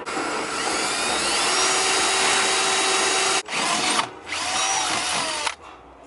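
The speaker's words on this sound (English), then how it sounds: "Now you get your drill bit and drill a little hole here." A power drill whines loudly and steadily while boring into material, then cuts out briefly, restarts in short bursts, and stops.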